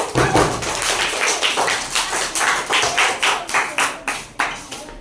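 A group of children claps hands together in a classroom, a fairly loud run of sharp, roughly regular claps that tightens into distinct evenly spaced beats toward the end, with no talking over it.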